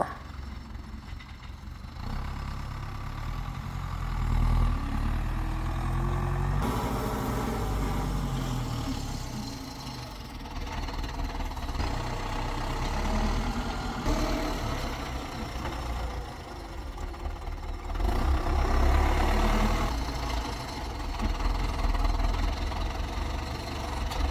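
A tractor engine on a farm in Russia runs steadily throughout with a loud, rumbling low drone that rises and falls slightly as it works.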